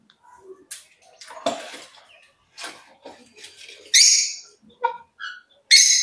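Lutino rosy-faced lovebirds in a nest box give several sharp, bright chirps and squawks at close range, mixed with scratching, rustling and handling noises between the calls.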